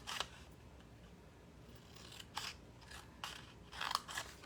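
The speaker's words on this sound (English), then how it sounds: "So I'm going to cut that out real quick." Scissors snip through a card printed with a congrats sentiment, giving a few short crisp cuts spaced across a quiet background, close and fairly faint.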